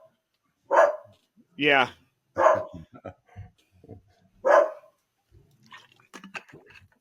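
A Chihuahua barks several times in short, sharp bursts indoors, close and fairly loud, with a person briefly speaking between the barks.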